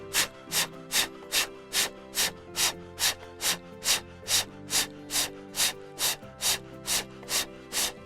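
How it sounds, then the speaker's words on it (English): Rapid breath-of-fire yoga breathing: about sixteen forceful, evenly spaced nasal exhalations in a steady quick rhythm, close and clear over soft background music, with no speech. "Let's do breath of fire again."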